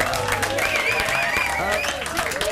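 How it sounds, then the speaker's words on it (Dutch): A studio audience claps steadily through the whole short stretch, a dense even burst of applause mixed with voices and cheering. "Mag ik een studio applaus voor de one and only Mr. Pop?"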